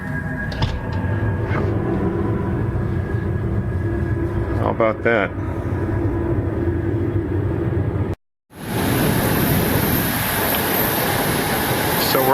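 A nearby aircraft engine run on an airport apron, heard through open windows, gives a loud steady roar and high whine that drop out briefly and return even louder, with someone speaking over the noise.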